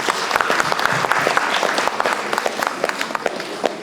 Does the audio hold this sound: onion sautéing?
no